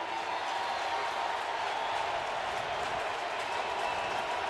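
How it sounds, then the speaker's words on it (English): Football stadium crowd at BYU at Washington in 2018, a steady, dense roar of cheering and applause filling the whole span at moderate level with no pauses. "And look at the crowd getting fired up."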